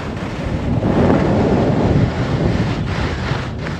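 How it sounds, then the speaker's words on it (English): Skis gliding through powder snow on a glacier in blowing wind: a continuous close hiss and rush of snow that swells and eases, mixed with buffeting wind on the microphone. "You can hear the sound of the skis."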